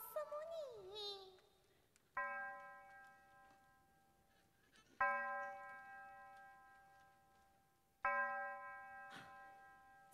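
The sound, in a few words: bell tolling in a Yue opera scene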